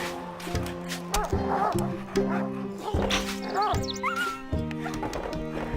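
Game dog barking with yips and a whimper inside the medieval strategy game Stronghold, sharp repeated yelps over a dense bed of battle music and unit voice calls.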